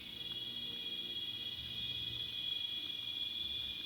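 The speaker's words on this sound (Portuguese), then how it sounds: "o som das cigarras" Cicadas sing in a natural outdoor setting, a steady, shrill high-pitched drone holding evenly throughout at moderate level, with a faint low rumble beneath and no voices.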